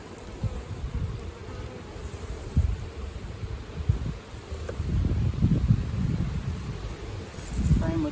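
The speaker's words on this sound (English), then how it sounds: "Frame of nectar with bees." Honey bees crawl and buzz over a hive frame of nectar, a dense close-up swarm hum that swells and fades irregularly, with occasional handling rustles and wind brushing the microphone.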